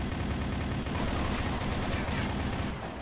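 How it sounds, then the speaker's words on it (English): Sustained rapid gunfire from the Shadowgun video game on Ouya, a dense, loud continuous barrage of shots filling the whole stretch with no voices over it. "I was trying to shoot the stupid thing"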